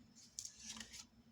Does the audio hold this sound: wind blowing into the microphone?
no